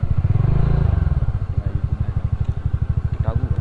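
A Bullet motorcycle passes close by, its single-cylinder engine thumping in a steady, loud rhythm that swells at first and then settles into an even chugging beat, with a brief faint voice-like sound near the end.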